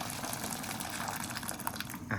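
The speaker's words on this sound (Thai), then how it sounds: "ตั้งกระทะลงไปนะครับผม เราเทน้ำน้ำเปล่าของเรานี่แหละ" Plain water poured into a cooking pan on the stove, a soft, faint splashing trickle that runs continuously for a couple of seconds and is a little louder near the end.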